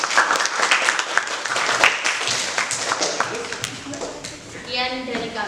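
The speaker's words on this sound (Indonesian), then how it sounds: "Beri tepuk tangan untuk kelompok 1." Classroom students applaud a presenting group with scattered, uneven clapping under overlapping talk and chatter, the claps thinning toward the end.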